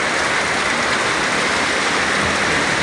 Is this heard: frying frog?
no